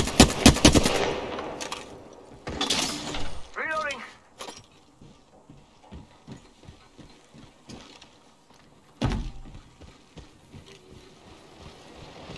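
Gunfire in Apex Legends Season 5 opens with loud automatic bursts, then continues as scattered shots and a rapid run of clicking impacts, with in-game voice lines mixed in.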